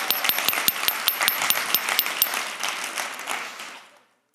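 An audience claps for a volunteer at a live stage show, a dense burst of applause with crisp individual claps that gradually thins and fades away to silence.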